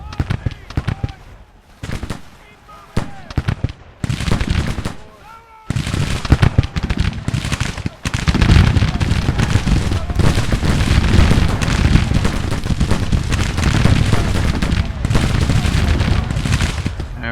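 Musket battle gunfire rages in the Civil War strategy game Grand Tactician, with dense, continuous volleys and crackling shots building from scattered bursts into a sustained roar, while voices shout over the din.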